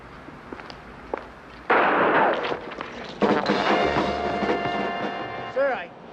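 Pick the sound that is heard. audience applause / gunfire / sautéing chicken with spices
gunfire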